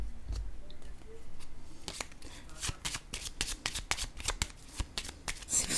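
French tarot deck being handled, a soft rustle followed by a quick series of close, crisp card slaps and flicks as cards are laid down, with a faint voice in the background.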